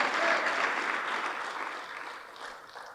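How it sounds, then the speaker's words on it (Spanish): A church congregation breaks into applause, a dense burst of clapping that swells at once and then gradually fades over a few seconds. "Démosle fuerte las palmas al Rey de Reyes por esa bendición maravillosa."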